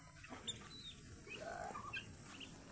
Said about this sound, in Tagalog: Ito mga sisiw sa kabila.